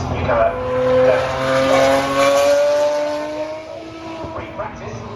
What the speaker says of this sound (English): They sound incredible. They sound incredible. This is just the F3 cars.